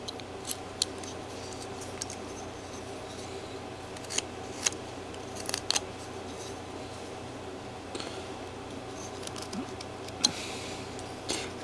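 A hand knife carves a wooden figure's head, producing faint, irregular snips and sharp little cutting clicks spread over a quiet room background.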